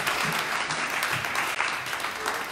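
Church congregation applauding at a prophetic service, a dense, close burst of clapping that holds steady throughout, with no words spoken.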